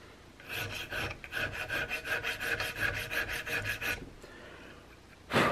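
Fine half-round file rasping a chamfer along an edge on a nose cap for an Investarms Gemmer Hawken rifle build, a steady run of about fifteen close, loud rhythmic strokes followed by a pause and one final stroke.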